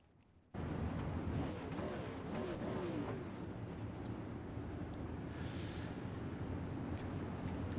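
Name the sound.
pace trucks driving on a race track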